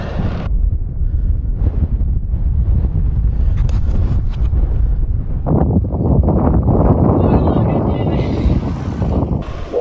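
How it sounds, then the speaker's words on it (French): Heavy headwind buffeting a microphone while cycling on a gravel bike, a constant low roar that rises in the second half, with no clear voices over it. "le vent de face"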